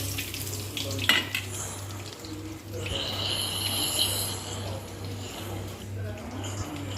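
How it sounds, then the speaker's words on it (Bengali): Cumin seeds tempering in hot oil in a home kitchen, a soft steady sizzle with occasional utensil clinks, partly masked by a low electrical hum and background voices. "এইবার জিরে ফোড়ন দিচ্ছি।"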